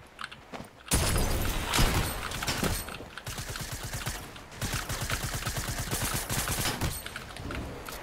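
Rapid automatic gunfire from a first-person shooter match, loud sustained bursts of shots after a quiet start, a short pause, then another long burst of fire.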